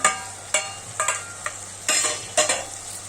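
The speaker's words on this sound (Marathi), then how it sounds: "आता हे मिश्रण आपण एकदम चालून घेऊया" A spoon stirring a khichdi mixture with turmeric, salt, masala and fresh coriander in a pan. About six close, distinct scraping strokes come in an uneven rhythm, with no talking.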